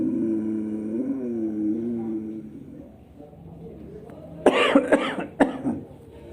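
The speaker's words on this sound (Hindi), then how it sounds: "खांसी आती है तो उसमें कुछ गलत नहीं है" A person coughs several times in quick succession during a pranayama breathing exercise, sharp and close, following a stretch of sustained voiced humming-like breath sound.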